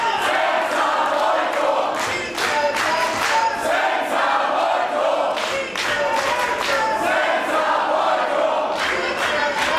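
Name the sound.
loud wrestling show crowd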